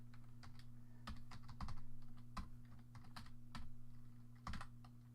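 Quiet, rapid clicking of someone typing on a computer keyboard in short bursts, close up, over a steady electrical hum with no talking.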